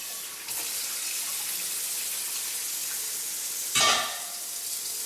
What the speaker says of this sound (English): Strain the hot water off and rinse it off in cold water to cool it down.